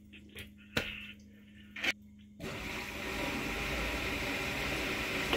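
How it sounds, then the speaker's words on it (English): An RV macerating toilet flushes with a steady rushing, whirring wash that starts abruptly and holds loud and close to the end, after a couple of brief clicks. "And I can flush right there."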